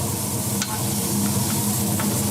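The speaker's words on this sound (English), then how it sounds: "Oh, that's a beautiful, beautiful hiss and sizzle." Meat sizzles steadily and loudly in a hot pan, a continuous crackling hiss with occasional sharper pops.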